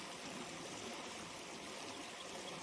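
A gold pan is washed down in water outdoors, giving a steady close rush of trickling, sloshing water without pauses.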